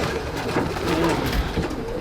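Pigeon cooing, a racing pigeon hen shown in a loft, soft and steady at close range with no talk.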